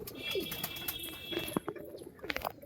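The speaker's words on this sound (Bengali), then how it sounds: "দেখুন কত পায়রা দেখুন" Pigeons coo softly at a home pigeon loft, with several low, throaty calls scattered through a quiet yard, some closer and some farther off, plus a few brief chirps and light taps.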